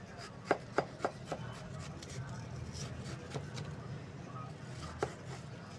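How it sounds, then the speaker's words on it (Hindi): A knife cuts watermelon into small cubes, giving four quick, evenly spaced chops near the start and one more later, over low background rumble and faint talk. "दरमियान में से ऐसे कट लगाएंगे, छोटे छोटे से क्यूब्स बन जाएंगे"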